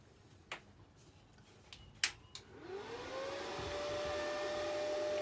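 A Parkside plasma cutter from Lidl switches on after a few clicks, its cooling fan spinning up with a rising whine that settles into a steady, close hum with a faint tonal drone.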